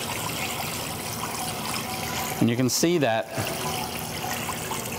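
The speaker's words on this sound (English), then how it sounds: "So if I pour this sanitizer into the unit," Sanitizer liquid pours steadily into an ice cream batch freezer, a continuous trickling wash of liquid with someone talking over it close by.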